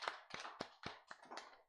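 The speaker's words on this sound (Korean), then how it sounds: "하나님께 영광의 박수 돌려드리겠습니다." Applause from a church congregation after a prayer at a Korean Full Gospel Sunday service: a quick, even run of about seven sharp hand claps, crisp and fairly close, with no speech.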